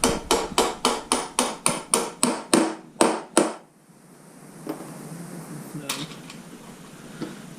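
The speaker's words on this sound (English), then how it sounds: "Let me get a little hammer to give that a tap" A steady run of about a dozen sharp metal hammer taps on a bolt, evenly spaced and close, then quiet workshop room tone with a couple of faint knocks.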